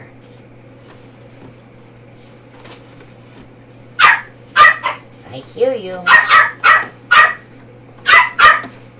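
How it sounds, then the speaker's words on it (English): A dog barks in an indoor room, a string of sharp, loud barks in quick bursts with short pauses and a brief whimper, after a quiet stretch; a person speaks briefly. "He found something to bark at."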